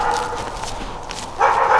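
A young miniature dog gives a few short yips and barks on a small North Idaho homestead, close and fairly loud, briefly sharper toward the end.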